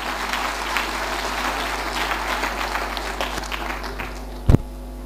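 A church congregation claps their hands together in a steady, dense wash of applause during a testimony service. It holds for about four seconds, then fades slightly, ending with one brief louder burst.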